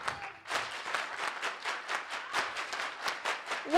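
Group of performers doing a soul clap in a steady, rhythmic beat of many hands clapping together, fairly close and sustained, with a few light voices.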